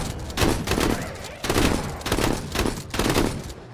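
Shotgun blasts in a video game firefight, a rapid run of loud, punchy shots about every half second, with a voice faintly heard underneath.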